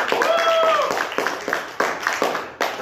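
Audience at a comedy show clapping in broken bursts, with a whistle-like tone early on, fairly close and loud, with voices mixed in.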